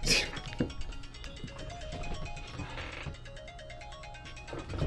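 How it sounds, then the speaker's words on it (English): A faint phone ringtone plays a repeating electronic tune, quiet and steady throughout. "Hold on, my phone's ringing."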